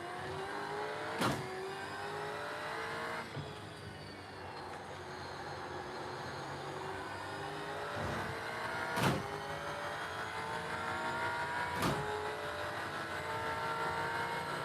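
Race car engine in a sim racing game at The Bend, a steady harmonic drone with rising and falling pitch sweeps through gear changes, with several sharp transient clicks layered over the continuous engine note.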